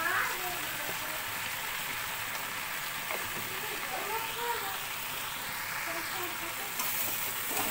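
Green chilli and ginger paste frying in a pan for a pumpkin-stem, potato and lentil ghonto, giving a steady, dense sizzle that holds loud and even throughout with no pauses.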